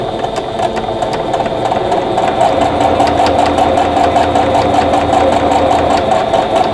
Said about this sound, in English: I'm going to start stitching on the left side of the line